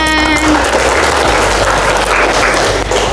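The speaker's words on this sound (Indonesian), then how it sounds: "Tepuk tangan." Students in an Indonesian classroom applaud together after a group activity ends, a loud, dense burst of clapping held steady for about three seconds, with some background noise and a brief tone at the start.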